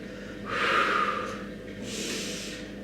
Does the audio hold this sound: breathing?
yes